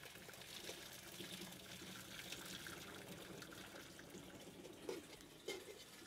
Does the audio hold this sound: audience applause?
no